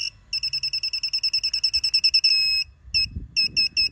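An Elsema gate controller beeps after its power is restored: a rapid run of about twenty short, evenly spaced electronic beeps, then one longer tone and a few more spaced beeps, loud and close with no talking.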